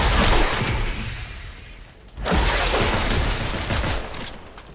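Video game gunfire in Fortnite crackles in dense rapid bursts, a loud sustained fusillade that cuts out briefly near the middle and then resumes just as thick, with no voices over it.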